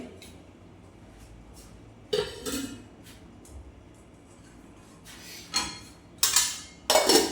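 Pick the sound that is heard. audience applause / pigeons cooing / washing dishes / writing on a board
washing dishes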